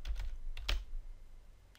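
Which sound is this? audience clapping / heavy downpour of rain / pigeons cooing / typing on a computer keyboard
typing on a computer keyboard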